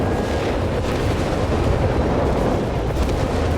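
Heavy artillery fire from a BL 5.5-inch howitzer in Company of Heroes 3, a dense continuous rumble of booms and blasts rolling together at steady loudness with no clear gaps.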